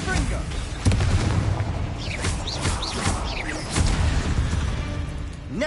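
A Confringo spell bursts in a Harry Potter video game, with repeated heavy booms and blasts layered with swooping magical effects, while a voice speaks over the action.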